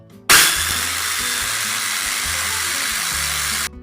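An electric blender grinds chili and spices into a paste for Cirebon-style sambal goreng daging, its motor starting abruptly and holding a loud, steady whir for about three and a half seconds before cutting off.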